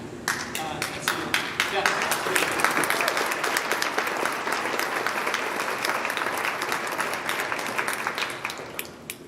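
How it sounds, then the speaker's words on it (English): Audience applause fills a school ceremony hall, a dense, steady wash of many hands clapping that stays loud throughout, with faint voices mixed underneath. "We can applaud again in a minute too."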